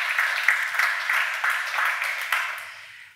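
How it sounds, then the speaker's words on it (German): An audience at a forum event applauds a speaker: a moderately close, even crackle of many hands clapping that rises in small swells and gradually thins out toward the end. "Applaus, meine Damen und Herren,"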